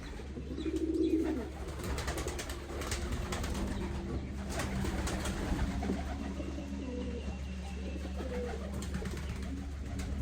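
Pigeons coo softly and repeatedly close by, low throaty calls over a steady background hum, with no talking.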